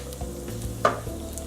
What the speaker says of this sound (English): It'll take about 2 minutes for those pepitas to start popping.